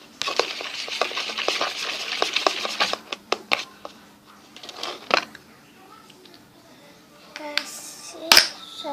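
Slime mixture with Sunlight dish soap being stirred in a container makes sticky, wet squelching clicks and slaps, busy at first then sparse, with a voice faintly in the background.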